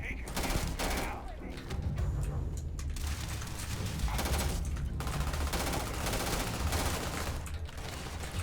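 Enemies open fire in the space game Starfield with dense, continuous automatic gunfire and rapid bursts of shots that fill the whole stretch loudly, with a voice talking intermittently underneath.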